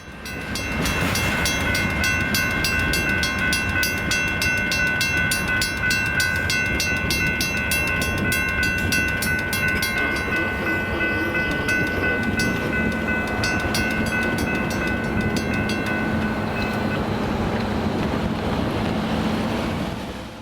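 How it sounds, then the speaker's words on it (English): A Union Pacific intermodal freight train on its daily Chicago to Eagle Pass run rolls past near San Marcos, Texas, a steady loud rumble and clatter of wheels lasting throughout with a sustained high tonal whine, no voices. "Here we see Union Pacific's daily Chicago to Eagle Pass intermodal"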